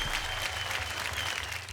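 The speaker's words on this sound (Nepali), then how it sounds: "सबले ताली जोड्दा" Studio audience at a televised dance competition applauds steadily, a dense wash of clapping with a low hum underneath, continuous and fairly loud throughout.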